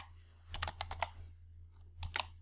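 Fingers strike a computer keyboard in two brief bursts of quick, soft key clicks with a short pause between them, quiet against a low background hum, while someone works in a spreadsheet.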